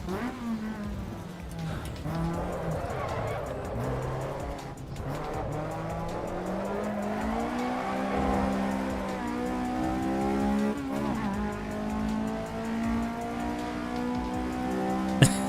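A race car in Assetto Corsa EVO on a community server sounds a continuous engine drone that rises and falls through the gears, with tyre squeal and skidding layered in, heard steadily throughout.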